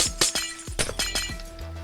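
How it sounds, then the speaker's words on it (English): Glass blocks in a Minecraft game shatter several times in quick succession, each break a crisp, clinking crack. They are fairly quiet, irregularly spaced and heard without speech. "Let's get rid of this glass again because it's again in the way."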